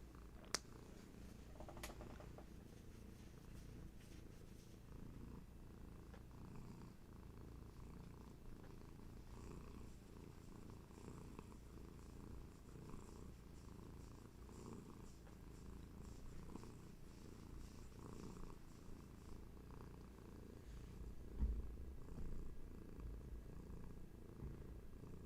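Hattie the cat keeps up a quiet, steady purr for the whole stretch, a low, even rumble heard up close with no talking.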